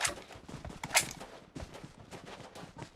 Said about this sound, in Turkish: Biri M24 ile sıkıyor.